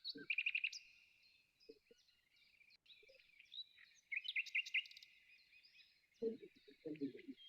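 Birds chirp and trill in bright, rapid phrases during an evening meditation session, fairly quiet and a little distant, with brief soft voice sounds in between.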